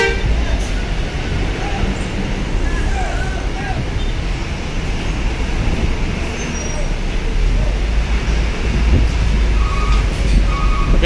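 Damri buses moving in heavy night traffic at Bakauheni port, a steady loud roadway rumble with engine noise and occasional horn toots throughout, with voices under it.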